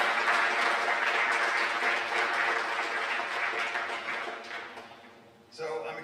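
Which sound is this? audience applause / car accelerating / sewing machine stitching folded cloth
audience applause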